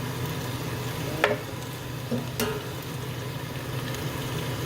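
An egg sizzles in a hot pan during pad see ew cooking, a steady frying hiss with a couple of sharp clinks from the pan or utensil.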